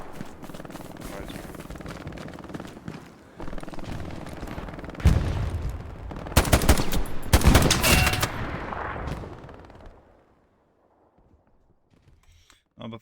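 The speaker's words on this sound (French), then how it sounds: "On se fait shoot d'assez loin." Gunfire and machine-gun bursts crackle at a distance in a WWII video game set on Utah Beach, sustained and thick for about ten seconds before fading out, with players talking over it.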